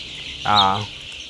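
One-month-old Fayoumi chickens give a single short, loud cluck of about half a second, close by, against a steady background hiss with no talk.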